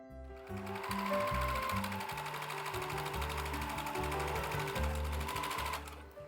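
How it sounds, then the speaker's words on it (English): A sewing machine with a free-motion foot runs in steady bursts, stitching red edging onto an organza leaf bookmark, loud and close with brief pauses between runs and no talking. "Use the free motion foot on your machine."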